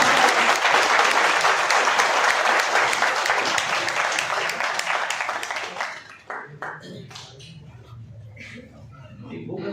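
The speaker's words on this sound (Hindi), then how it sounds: "एक बार ताली बजा के मुझे मदद कीजिए।" An audience at a Hindi poetry gathering claps heavily at first. The applause thins to scattered claps and then dies away into quieter room noise after about six seconds.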